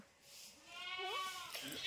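A goat bleats once in a short, wavering call at moderate distance in an open field, with faint speech nearby.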